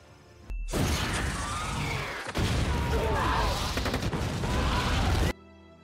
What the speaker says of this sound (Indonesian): ketika mereka masuk, ruangan itu pun meledak